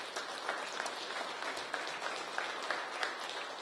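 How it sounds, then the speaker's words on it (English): Applause from a crowd at a press event naming a new fire and EMS chief, a soft, fairly distant patter of many hands clapping continuously without a break. "So give them a round of applause also."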